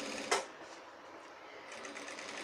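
A sewing machine stitches shirt fabric in a fast, close, buzzing run with a sharp click near the start, steady whirring throughout and no voices.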